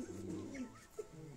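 Flying pigeons from a rooftop loft coo softly in low throaty rolls, fairly near but faint, with a brief knock partway through and no talk.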